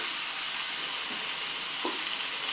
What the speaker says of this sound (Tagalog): Haluin ko lang muna mga kaidulan ang atin pakbit na gulay bago natin ilagay ang asin